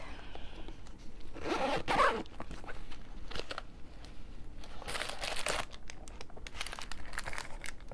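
Zipper on a small Shein mini purse being handled up close, several quick rasping zip strokes with soft crinkling and rustling between them, fairly quiet and without talk.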